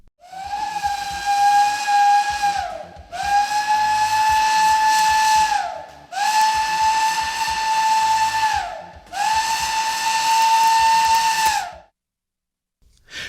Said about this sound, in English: The fire whistle is short, continuous blasts of the emergency whistle.